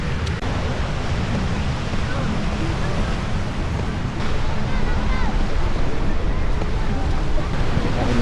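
Sea waves wash onto a sandy shore at Bolasi Beach in San Fabian, Pangasinan, a steady broadband rush mixed with wind noise on the microphone, while people talk over it.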